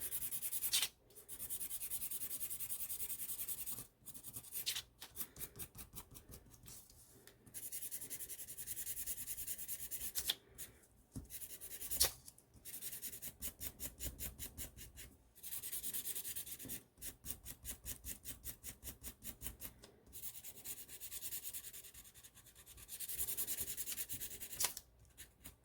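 Markers rubbed across paper while colouring a Santa Christmas craft, a continuous close scratchy scribbling in quick back-and-forth strokes with brief pauses between passes.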